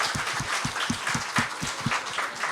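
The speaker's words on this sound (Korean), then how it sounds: "우리 서기 집사님 위해서 크게 한번 박수 한번 부탁드리겠습니다" Crowd applause from the audience at a Tuesday church prayer meeting, a steady run of overlapping claps over about two and a half seconds at moderate level, with no talk over it.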